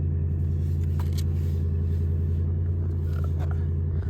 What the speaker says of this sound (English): I'm gonna see if the truck goes away. Truck is not going away